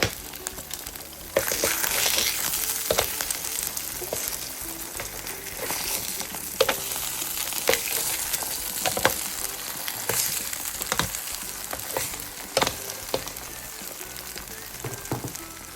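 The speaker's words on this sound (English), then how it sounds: "I'm going to go ahead and flip our eggs." Eggs fry in a pan with a steady, close sizzle and crackle, broken by sharp scraping and tapping as they are worked loose and flipped; no voices are heard.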